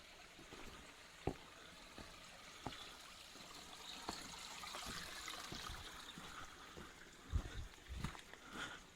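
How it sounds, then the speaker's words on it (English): A forest stream beside a hiking path in Madeira trickles faintly and continuously, with soft burbles and occasional small splashes or footfalls in a quiet outdoor setting. "Following one of these streams."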